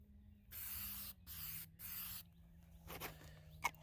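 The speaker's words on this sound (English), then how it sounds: "this just has kind of your standard spray nozzle there" An aerosol spray can of orange paint hisses in three bursts, two long and one shorter, with short gaps between them. A faint rattle or handling noise follows.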